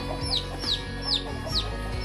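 A chicken clucks repeatedly in a steady rhythm, several short sharp calls close by over a low background hum.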